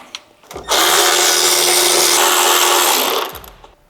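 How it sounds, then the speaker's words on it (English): A right-angled ratchet spins out screws on a Harley-Davidson Street Glide in one loud, close whirring burst lasting about three seconds, with a few faint clicks before and after. "We use a right-angled ratchet and we sneak in there and pull the 3 screws out."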